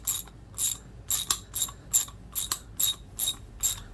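A worn, near-end-of-life True Value Master Mechanic USA round head ratchet clicks while tightening, with eight or nine evenly spaced bursts of crisp, close pawl clicks and no talking.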